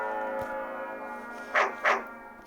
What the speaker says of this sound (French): Et un chien va m'agresser.